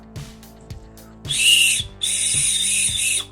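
A small whistle on a rechargeable keychain flashlight is blown twice, shrill and breathy, each blast lasting about a second, with faint clicking and handling noises around it.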